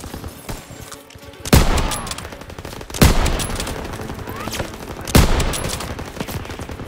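Machine gun fire in the WWII shooter Call of Duty WWII, sustained loud bursts of rapid shots with three sharp heavy blasts standing out, dense battlefield noise throughout.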